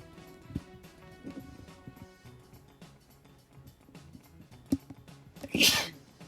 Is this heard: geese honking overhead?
no